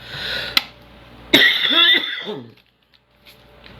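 A harsh, close cough erupts, followed by a rough throat-clearing rasp that trails off into quiet.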